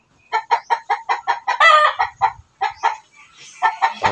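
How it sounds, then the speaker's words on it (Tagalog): Chickens and a rooster in a backyard coop make close, rapid rhythmic clucking in quick bursts, with a brief louder squawk in the middle and more clucks toward the end. "May rooster na isa dyan. Tapos yung mga upgraded natin na manok."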